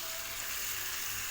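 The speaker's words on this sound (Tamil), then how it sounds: "ஒரு 2 நிமிஷம் லோ ஃப்ளேம்லேயே வச்சு சிக்கனை நல்லா வதக்கிக்கங்க" Marinated chicken sautéing in a pan over a low flame for Kerala chicken biryani, giving a steady, even sizzle and frying hiss throughout with no voices.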